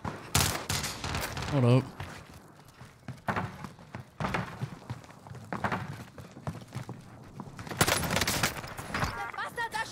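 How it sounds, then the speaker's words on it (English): Gunfire in the video game Warzone on Rebirth Island, sharp shots and short bursts scattered through the scene along with footsteps and game sounds, with a voice speaking briefly. "The bastards are shooting at me"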